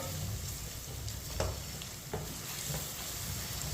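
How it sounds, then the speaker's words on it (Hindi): Onions frying in a pan for Chinese rice while a spoon stirs them, a steady close sizzle broken by a few light scraping clacks, with no talk. "प्याज को 2 मिनट के लिए चम्मच चलाते हुए पका लेंगे।"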